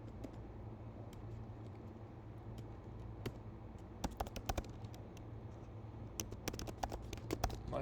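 Code being typed on a computer keyboard, rapid clusters of crisp clicky keystrokes picking up toward the end over a steady low hum, with no talking.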